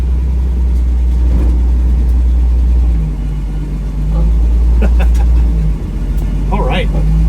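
A 1972 Ford F100 pickup on its first test drive rumbles with a low, steady engine drone and occasional revs, while someone talks over it throughout.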